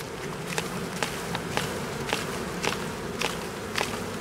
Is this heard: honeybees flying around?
yes